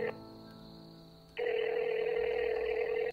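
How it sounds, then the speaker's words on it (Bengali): A telephone call being dialed: a brief steady tone, a quieter pause, then a loud continuous ringing tone that holds for nearly two seconds before cutting off, with no voices. "এমনই একদিন মজুমদারবাবুর স্ত্রী সুজাতা দেবী ফোন করেন।"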